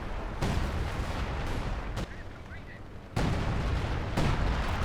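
Artillery barrage in Company of Heroes 2: dense, rumbling bursts of shellfire and explosions that fill the scene continuously, with a sharp heavy onset partway through and a few abrupt shifts in intensity.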